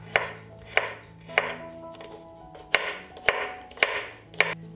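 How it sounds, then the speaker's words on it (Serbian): A knife chops garlic cloves on a board in about eight crisp, evenly spaced strikes, close and clear with no talking. "zatim ću iseckati 2 čena belog luka"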